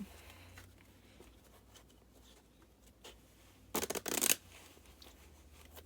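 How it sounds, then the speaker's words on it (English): A quick riffle of playing cards bursts out loudly for about half a second, close up, amid an otherwise quiet room. "Quick shuffle together."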